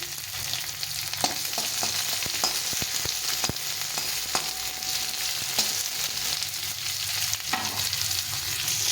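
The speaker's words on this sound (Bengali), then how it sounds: "পেঁয়াজটা একটু ভালো করে ভেজে নিতে হবে।" Onions are stirred and fried in oil with whole spices, a steady close sizzle broken by repeated scraping and tapping stir strokes, no talking.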